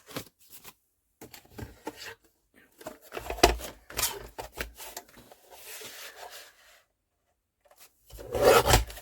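Scissors or a blade cut through folio material, scattered dry scraping and rasping strokes in short bursts with quiet gaps, close up and fairly soft.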